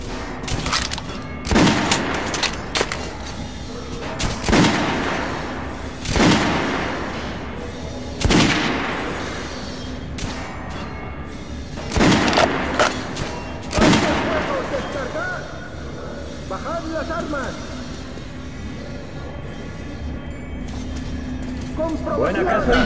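Loud gunfire volleys from soldiers in the shooter game Metro Last Light, with several sharp blasts spaced a few seconds apart over rumbling mechanical noise, and voices talking throughout.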